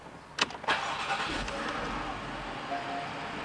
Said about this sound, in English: We're going to put on the ignition in a second.